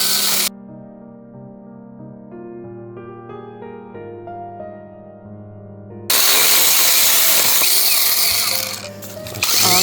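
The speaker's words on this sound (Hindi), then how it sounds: "इसका भी चेन है वो सॉकेट करके, इसको चेन सॉ कहते हैं।" A chainsaw cuts up fallen branches after an ice storm, first idling with a low engine hum and then revving into a loud, harsh roar that fills the rest of the stretch.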